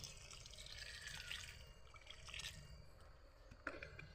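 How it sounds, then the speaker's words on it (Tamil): Water poured onto plant soil trickles and drips steadily at a low level, with a few small splashes and a brief louder spatter near the end. "இப்போ தண்ணி ஊற்றிடுவோம்."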